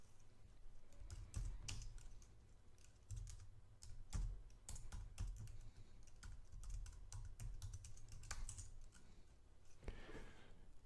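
Fingers type on a computer keyboard in a Linux terminal, a close, continuous patter of key clicks with irregular bursts and brief pauses throughout.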